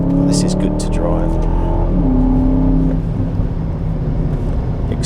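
An Aston Martin DBX SUV on the move, a steady engine note with shifting revs and road noise from inside the cabin, continuous and fairly loud throughout.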